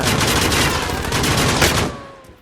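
Rapid automatic gunfire in Call of Duty Warzone Pacific hammers out a loud, dense burst for about two seconds, then stops and fades into a short ringing tail.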